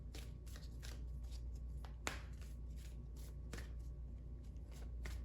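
Playing cards shuffled and drawn by hand for a tarot-style reading, a steady run of quiet riffling and soft flicks with a few sharper snaps, close and alone.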